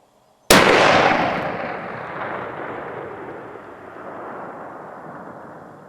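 A single sharp rifle shot from a long range .22 build cracks loudly and abruptly, then rolls away in a long, fading echo across open ground.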